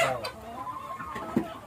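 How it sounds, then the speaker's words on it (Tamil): A turkey on a farm gives a few brief, close clucking calls over quiet background noise. "என்ன வான்கோழி பாருங்க"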